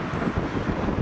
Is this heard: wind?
yes